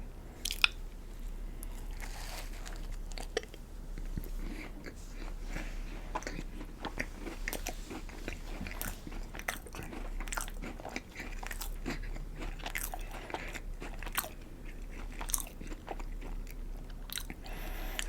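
Crunchy Oreo-style cream cookies being bitten and chewed up close, a long stream of sharp crackling crunches and crumbly snaps at a steady pace, with no talking.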